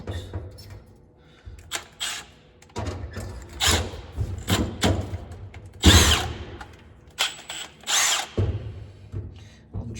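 A power drill bores center-punched holes in metal for a battery box on a junkyard Jeep, with several bursts of whirring and grinding separated by pauses, clunks and handling knocks, close and loud.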